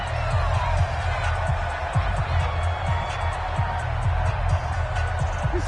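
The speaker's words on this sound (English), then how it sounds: "the crowd getting into it as we come up on a big 3rd down" Crowd noise at an American football match in a video game, a steady, broad roar of a large stadium audience swelling as a big third down approaches, running continuously under a commentator's voice.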